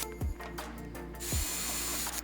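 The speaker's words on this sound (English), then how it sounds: "make sure that I will drill everything consistently" A power drill whirs steadily up close, its pitch ramping as it spins up and bites into material while drilling mounting holes for a motorcycle tour pack wall mount, with brief slowdowns in between.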